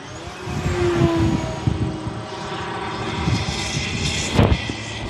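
An E-flite Beechcraft D18 RC model airplane, 1.5 m span, flies overhead with a steady engine drone that swells and fades, plus a brief louder pass near the end.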